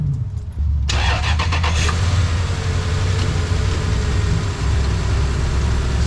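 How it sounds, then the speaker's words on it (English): A Toyota Land Cruiser / Lexus LX470 engine cranks briefly and fires, then settles into a steady, loud, close idle with a deep rumble that runs on unchanged. "let's start up the car."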